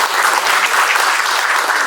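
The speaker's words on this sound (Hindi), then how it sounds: "तो जोरदार तालियां" An audience at a retirement function applauds loudly, with dense, continuous clapping from many hands filling the room, close and unbroken.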